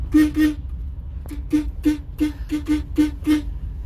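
A car horn honks in a rapid series of short toots, about nine beeps in two bursts, loud and close against a low idling background.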